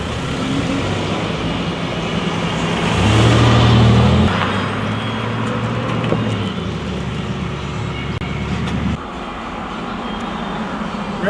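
Ranger EV electric vehicle driving through the city of Marson, a steady rolling hum with road and wind noise throughout, a louder swell partway through, then settling slightly quieter near the end.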